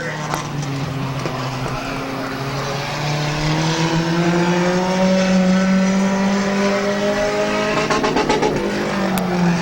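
Pure stock race cars at a speedway roaring toward the checkered flag, loud engines revving with a rising, sweeping pitch as cars pass close, a race announcer talking over the steady din.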